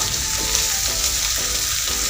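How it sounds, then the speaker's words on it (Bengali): Sweet pumpkin fries with sugar in a pan, a loud continuous sizzle right up close with soft stirring scrapes now and then, no voices. "চিনিটা দেওয়ার পর অল্পভাবে আরেকবার নেড়ে চেড়ে দিব"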